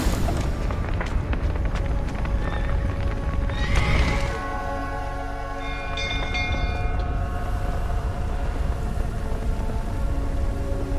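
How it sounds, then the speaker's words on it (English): Horses whinny and neigh amid heavy rain and a continuous rumbling din, the calls rising over the noise near the middle. "The horses!"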